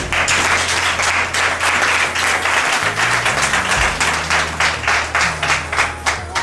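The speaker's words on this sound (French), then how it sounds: "La famille Sokou, à travers leur fils Sokou Pamphile Brevet, que je vous demande d'applaudir." Guests at a civil wedding for Lucrèce and Pamphile break into loud, sustained applause, a thick wash of clapping hands with a low hum of background tones underneath.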